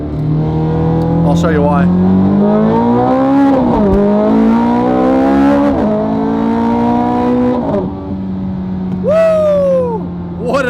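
A Ferrari V8 supercar accelerates hard up a highway on-ramp, loud and close, its engine note climbing through several rising gear pulls with brief dips at each shift, while someone talks over it.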